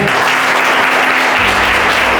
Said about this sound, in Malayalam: നല്ല ക്ലാപ്പ് കൊടുത്തേ.